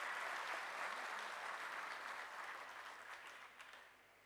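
An audience at a party workers' gathering and induction event in Miraj gives the organizing team a sustained round of applause, a broad, distant wash of clapping that slowly fades out over a few seconds.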